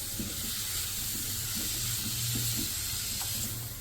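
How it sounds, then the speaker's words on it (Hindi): Boneless chicken pieces frying lightly in butter for a shahi karahi, giving a steady close sizzle and hiss with faint crackles throughout and no talking. "बस हल्का सा इसको फ्राई करेंगे।"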